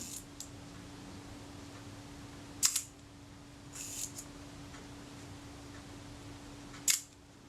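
Faint, sharp mechanical clicks of an Agfa Karat 36 camera shutter firing outside the camera body, three or four isolated snaps over a quiet hum, close by.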